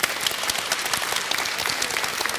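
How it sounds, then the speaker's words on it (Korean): A lecture audience applauds Professor Jeon Se-il of CHA University after his talk, a dense, steady burst of many hands clapping close by for a couple of seconds. "큰 박수 부탁드리겠습니다"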